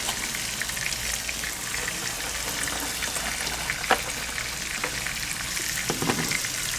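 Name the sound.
red onions frying in cast iron on the grill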